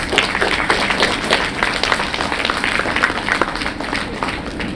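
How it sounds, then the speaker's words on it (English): Audience applause at an inaugural conference ceremony as award presenters are invited onto the stage: steady, dense clapping from a hall crowd that holds at an even level throughout. "Shall we invite them with a round of applause?"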